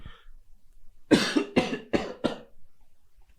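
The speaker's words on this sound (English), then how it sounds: "I'm sorry about me coughing all the time." A person coughs four times in quick succession, close and fairly loud, after a brief faint sound at the start.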